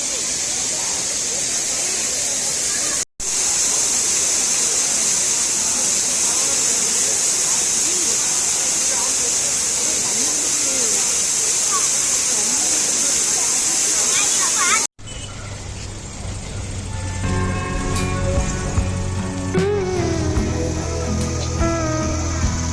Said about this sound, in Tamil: கீழே இறங்கி வந்தீங்கன்னா இங்க இருக்க அகஸ்தியர் ஃபால்ஸ்